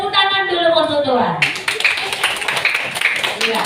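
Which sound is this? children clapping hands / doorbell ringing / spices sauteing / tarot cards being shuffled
children clapping hands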